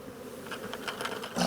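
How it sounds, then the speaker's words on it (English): Honeybees buzzing at a beehive in a beeyard, a dense steady drone of many insects close by that swells louder toward the end as bees fly out. "Those bees are climbing up and going in the entrance there, I think. Look how many bees are in here. Oh, they're flying out."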